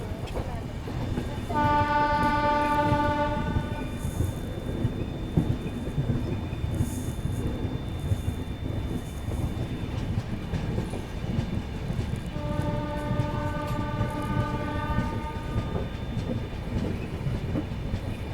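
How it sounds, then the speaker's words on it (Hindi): The 14114 Dehradun–Subedarganj Express pulls out of Chandok railway station with a continuous rolling rumble, broken by two long, drawn-out horn blasts, one early and one near the end. "ट्रेन अपनी डिपार्ट कर चुकी है चंदौक रेलवे स्टेशन से"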